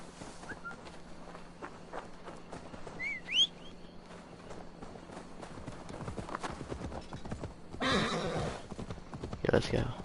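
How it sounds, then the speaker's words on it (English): A horse in the Assassin's Creed Valhalla video game neighs once in a brief rising whinny, then its hooves clip-clop steadily at close range over soft game ambience and a few scattered clicks. "Now to deliver Magni his horse."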